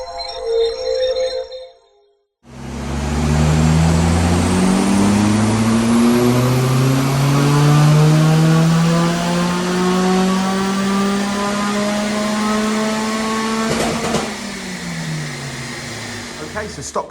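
A stock Mitsubishi Colt CZT engine on a dyno revs in a loud power run, rising steadily through the gears with harmonic sweeps, then cuts off near the end; a voice speaks briefly before the run begins.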